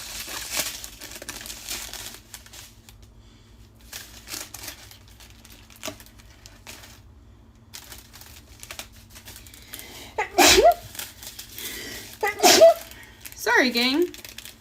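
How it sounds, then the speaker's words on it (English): Three sharp sneezes break out close to the microphone over quiet rustling and crinkling, one after another in the latter part of the clip. "Sorry, gang. I'm sneezy."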